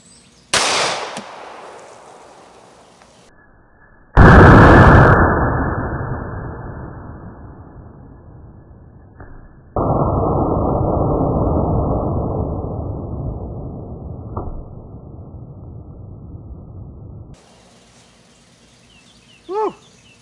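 An aerosol oven cleaner can bursts with a sharp, loud pop followed by a long rushing hiss of escaping spray that fades, then a second sustained hiss, all outdoors with no talk.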